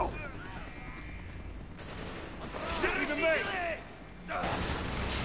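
Unsilenced gunfire in Call of Duty: Black Ops, bursts of game shots and loud blasts crackling in clusters, swelling mid-clip, alongside ambient game effects.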